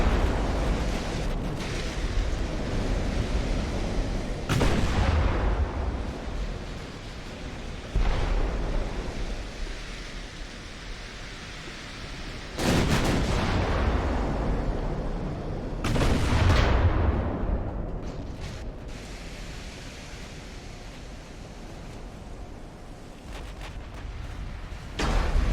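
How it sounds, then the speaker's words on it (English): Heavy 16-inch naval guns fire super-heavy shells in the Ultimate Admiral Dreadnoughts naval warfare game: about four loud, deep booms spaced several seconds apart, each trailing into a long rumble, with steady sea and battle noise between and no talking. "I'm using 16-inch shells, super heavy"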